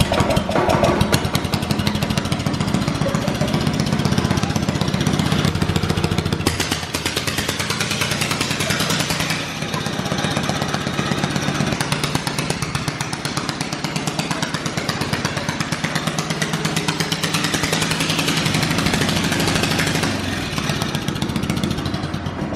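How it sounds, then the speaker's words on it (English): A dirt bike engine with a straight-pipe exhaust, mounted on a drift trike, runs loud and close with a rough, rapid, uneven chatter of pops and crackles. "Dude, it sounds like it's backfiring"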